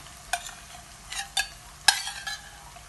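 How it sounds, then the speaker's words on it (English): Pre-boiled onions frying in oil in a pan for Congolese salt fish, heard as a quiet hiss broken by a few sharp scrapes and taps as the onions are stirred. "This oil, this onions, it goes to the pan."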